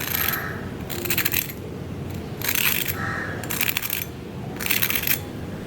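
Crisp, rustling crunches of freshly deep-fried frozen snacks being handled, coming in several separate bursts with short quieter gaps between them, close and fairly soft.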